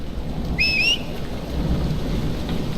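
In the video game Dragon Age Inquisition, a thunderstorm brings a steady wash of rain and low rumbling, briefly topped by a high whistling tone.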